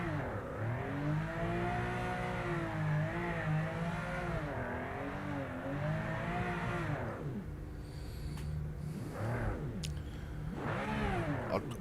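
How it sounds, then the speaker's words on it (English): A Porsche race car engine in the video game Project Motor Racing revs continuously, its pitch rising and falling through gear changes, then climbing again in sharp bursts near the end, loud and close. "but it sounds like a Porsche"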